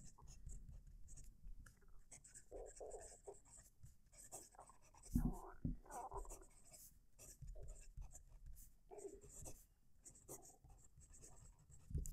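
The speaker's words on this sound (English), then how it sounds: "You can definitely hear that nib on the paper." A fountain pen nib scratches softly across paper with the microphone held close, producing faint, continuous strokes and small scrapes at low level against a quiet background.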